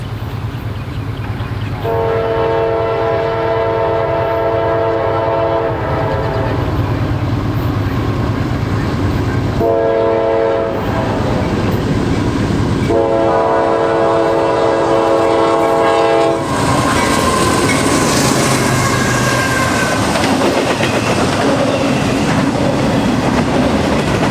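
A freight train led by an AC44C6M locomotive rumbles past close by near Reading, Pennsylvania, while its horn blasts several times, long and loud with short gaps, then wheels clatter on as it continues.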